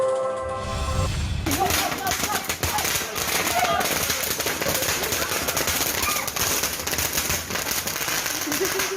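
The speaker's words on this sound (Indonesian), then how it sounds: "Sejumlah petasan meledak lebih dahulu sebelum balon tanpa awak mengudara" Rapid, continuous popping of firecrackers going off in a dense, loud barrage before an unmanned balloon launch in Subang, West Java, with crowd noise mixed in throughout.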